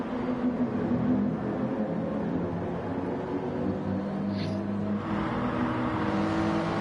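Toyota Supra and AMG race cars in a racing game, a steady loud engine drone with continuous whirring tone and no clear breaks, holding through the whole stretch.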